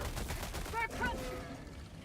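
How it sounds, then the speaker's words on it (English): SMG gunfire from Helldivers 2 while fighting beetle-like bugs, a continuous rattling burst of rapid shots mixed with game noise and a brief voice, fairly loud throughout. "The SMG actually kills the beetles"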